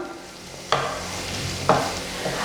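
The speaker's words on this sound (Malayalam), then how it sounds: "എന്നിട്ട് ഇതൊന്ന് വഴറ്റി കൊടുക്കുക. ഇനി സവോള നന്നായിട്ട് ബ്രൗൺ കളറൊന്നും ആവണ്ട, ജസ്റ്റ് ഒന്ന് വാടി വന്നാൽ മതി." Onions sauté in a pan for paneer butter masala, a low steady sizzle with two sharp scrapes of a spoon against the metal, close and without talk.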